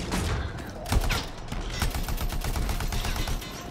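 Dense automatic gunfire and repeated shots from the video game Anthem, a sustained loud barrage with scattered heavier bursts over the whole stretch, no voices heard.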